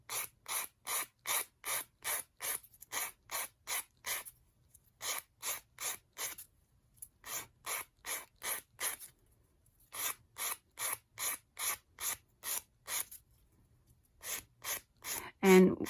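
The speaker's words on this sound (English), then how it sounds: "I'm just really kind of sanding away at that" A wooden raccoon craft has its sides sanded by hand in quick, rhythmic bursts of rasping strokes separated by short pauses, close and fairly quiet, with a brief voice at the very end.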